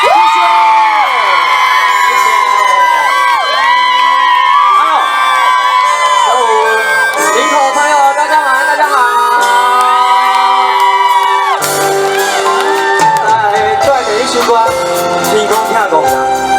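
A concert crowd at a Taiwanese-language show in Linkou, New Taipei, cheers and whoops loudly and continuously to welcome a singer, with bright shouting voices and music layered throughout.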